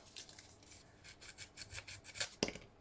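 Sandpaper rasps back and forth against the edges of a decorated craft napkin, a steady series of close, dry scrubbing strokes that end in one louder, harsher pass.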